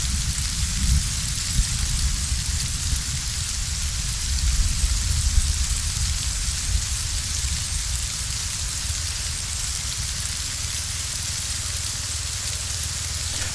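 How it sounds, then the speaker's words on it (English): Steady, even rain falls in the ARMA 3 video game, a constant dense hiss of drops on surfaces with a faint low rumble underneath, continuing unchanged throughout without talk. "I like how it doesn't rain directly underneath the tree, except for some droplets that make it through"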